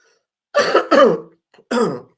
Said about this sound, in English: excuse me, I have this cough.